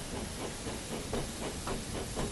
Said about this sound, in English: James puffed away to collect his waiting coaches